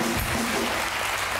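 Studio audience applause on the Harald Schmidt Show, a German late-night TV talk show: a steady, dense clapping wash that fills the whole moment without pause and holds at an even level.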